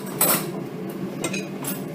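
A knife scrapes and clinks against a plate while cutting through a cooked steak on the bone, a few sharp metallic contacts over quiet scraping, close and fairly loud.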